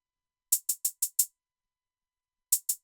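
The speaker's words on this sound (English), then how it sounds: "Then we have the hi-hats." Crisp hi-hats in a hip hop beat tick in a quick run of five even strokes, pause, then return in another fast burst, bright, thin and fairly soft, with no talking.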